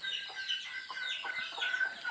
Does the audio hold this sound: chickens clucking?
yes